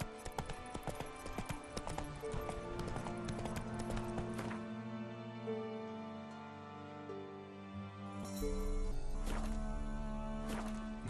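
Roach, the horse in The Witcher 3, clip-clops steadily at a quick pace, hooves thudding in a continuous rhythm over ambient game music, with a short neigh near the end.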